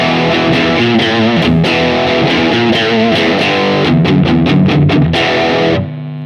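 A Strat electric guitar on the bridge pickup through a high-gain preamp distortion, chugging loud, thick riffs with palm-muted stabs, then cutting off abruptly into fading noise.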